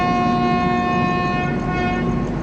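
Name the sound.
Netravathi Express train running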